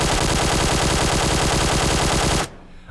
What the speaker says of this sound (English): Some of the bullets for firing from the hip, they do go off target a little bit